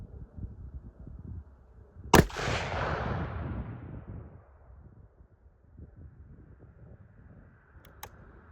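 A single loud rifle shot from a Bergara Wilderness Sierra firing Remington Core-Lokt 150 grain ammunition at a shooting rest, a sharp crack followed by a long rolling echo that fades over several seconds, with a faint click later.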